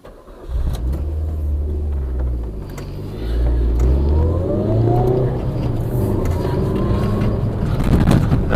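An inline-four motorcycle engine revs hard and close, rising and falling through the higher revs in a loud, continuous drone with shifting pitch after a brief start, with no talk.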